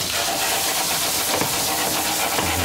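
Strips of Speck (bacon) frying in a pan until crispy, giving a steady, dense crackling sizzle close up and fairly loud throughout, with no talking.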